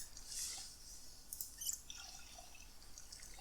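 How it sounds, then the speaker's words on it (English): Water bottles being filled in the Project Zomboid zombie-survival video game, heard as a quiet run of light drips and liquid trickles with small glassy clinks, sparse and faint against a soft background hiss. "We're going to fill the empty bottle and our water bottle."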